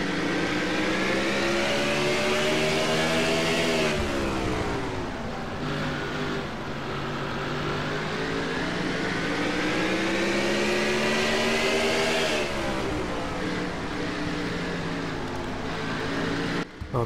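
Onboard an ISCR stock car at Autodrome St-Eustache, the engine drones loud and steady, its pitch rising as it accelerates and dipping on lift-off through the corners, with no pause for the whole stretch.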